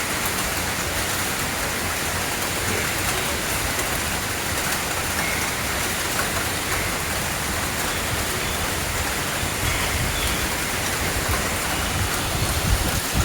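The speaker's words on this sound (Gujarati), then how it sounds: "મસ્ત વરસાદ ચાલુ થઈ ગયો છે અત્યારે, એક નંબર." Heavy monsoon rain falling across a Mumbai garden, a dense, even hiss of countless drops on surfaces that stays steady and loud throughout, with no voices.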